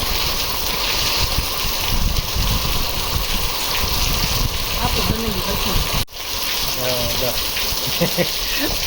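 Monsoon rain falling outdoors, a steady broadband wash of drops with wind buffeting the microphone and a brief dip partway through.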